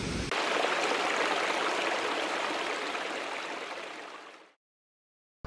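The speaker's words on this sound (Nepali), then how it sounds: "मन्दिरको छेउमा एउटा झरना पनि छ" A waterfall beside a temple at Dobhan roars as a steady, loud broadband rush of falling water, close by and unbroken for about four and a half seconds before cutting to silence.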